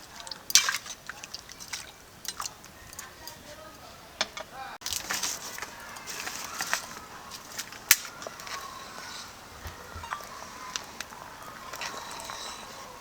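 Sliced potatoes tumble into hot water in a pot for parboiling, giving irregular splashes, clinks and trickling over several seconds at moderate loudness with faint background noise.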